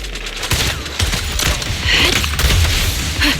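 Gunfire in the video game Zenless Zone Zero, from the Grim Vulture enemy shooting from afar, heard as dense, rapid shots and booms layered with battle effects, loud and continuous throughout.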